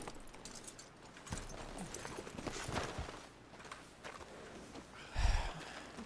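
Horse hooves clip-clopping in Red Dead Redemption 2, a few soft, uneven steps near a cave, faint and close, with a heavier thud toward the end and no talk.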